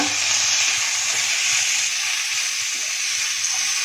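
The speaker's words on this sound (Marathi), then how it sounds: "गूळ फक्त वितळून घ्यायचा आहे." Jaggery melts in a pan with grated fresh coconut and gulkand, giving a loud, steady hiss and sizzle that holds evenly from start to finish.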